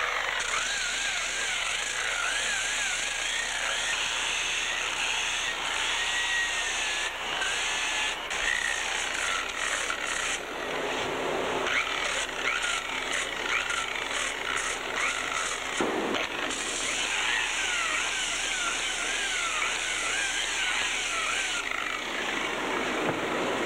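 A power sander with a hard pad and 80-grit paper works over a surfboard ding repair, giving a steady, even whirring grind that runs without a break throughout.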